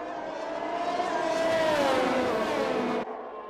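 Racing car engines from a video game, howling together at high revs as one Alfa Romeo car overtakes another, a rising and falling pitch sweep that stops abruptly near the end.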